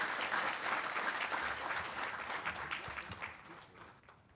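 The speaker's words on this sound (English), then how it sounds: "Let's give them all a big round of applause." City council audience in Lakewood gives a warm round of applause for new city employees, dense clapping that starts strong and gradually tapers off, with no talk over it.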